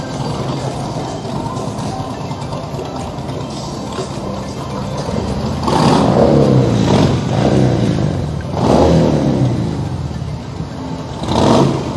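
Superbikes from a pre-owned motorcycle store launch in Siliguri rev and pull away, with a low engine rumble beneath street noise swelling into several loud revving bursts in the second half.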